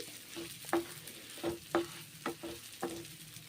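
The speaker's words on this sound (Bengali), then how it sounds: "এখন মুগের ডালগুলো ভেজে নিচ্ছি বেশ ভালো করে ভেজে নেব" Mung dal frying in a pan, stirred in a slow rhythm of soft scraping strokes over a quiet, low sizzle, with no talking.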